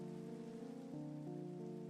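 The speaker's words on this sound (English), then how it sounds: "Of course it's raining." Rain falling in the video game Minecraft, a steady soft hiss that continues through the whole clip under sustained musical tones, with no talking.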